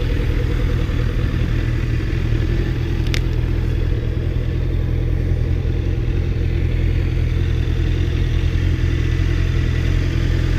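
A 2014 Honda CB650F motorcycle engine runs at a steady, loud idle with a stock exhaust, holding an even low rumble for the whole stretch with one brief sharp click near the start.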